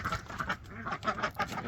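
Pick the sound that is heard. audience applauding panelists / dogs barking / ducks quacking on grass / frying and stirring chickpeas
ducks quacking on grass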